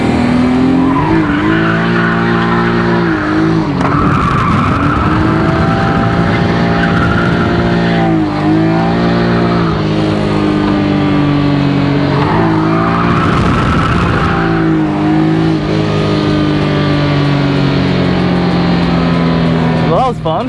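A BMW E36 drifting on a track, its engine revving hard and rising and falling continuously while tires squeal loudly in long sustained bursts throughout, close and dominant with no pause.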